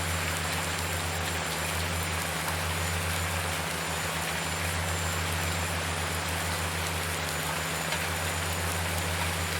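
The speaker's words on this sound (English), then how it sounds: "Man, this rain just will not stop." Steady rain falls in Farming Simulator 19 as an even hiss over a low vehicle engine drone, constant and moderately quiet throughout.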